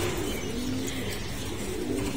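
Pet racing pigeons coo softly in a loft, low throaty calls repeating a few times over a faint background hum.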